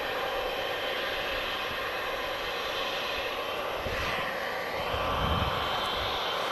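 Jet engines on an aircraft at Manchester Airport run up toward full takeoff power, a steady loud broadband roar with a rising whine and a swell of rumble near the end.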